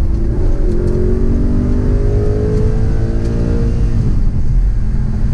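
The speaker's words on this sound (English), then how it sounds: "Now I know it's the V8 and it's not the V10, but the car still makes a crazy sound." A 2011 Audi R8 Spyder with a V8 engine accelerates hard, heard from inside the car as a loud, rising engine note climbing steadily through the gears over several seconds.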